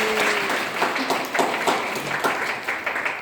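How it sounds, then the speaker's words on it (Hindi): Audience applause at a DXN program in Banke, Nepal, a dense burst of loud clapping with rhythmic peaks, close and filling the space, no talk over it. "एक बार जोरदार ताली"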